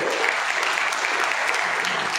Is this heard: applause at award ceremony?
yes